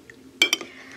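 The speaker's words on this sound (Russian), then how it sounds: "Тщательно размешиваем, чтобы не было комочков." A spoon clinks a few times against a bowl or cup while yogurt is stirred into milk in a home kitchen, three quick close knocks in a quiet room.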